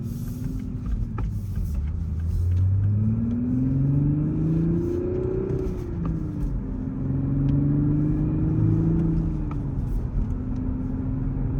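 A Toyota A90 Supra engine rises and falls through several rev swells as gears are shifted with a short shifter in a manual car, heard loud and close from inside with no talk.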